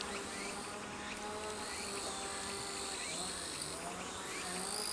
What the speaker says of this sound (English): And here we have a lot of bees.